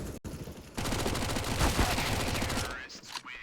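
Rapid SMG fire in a Counter-Strike match on Vertigo at a professional esports playoff, a loud dense burst lasting about two seconds after a single sharp shot, then trailing off into fainter game sounds.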